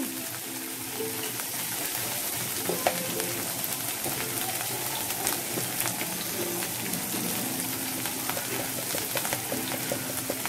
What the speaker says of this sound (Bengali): পেঁয়াজ বাটা ভালো করে কষিয়ে নিচ্ছি